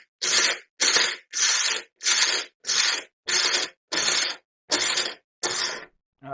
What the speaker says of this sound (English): You can use whatever food processor you got. I like this one because it's a smaller batch.